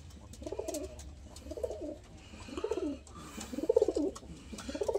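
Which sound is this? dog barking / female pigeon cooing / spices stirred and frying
female pigeon cooing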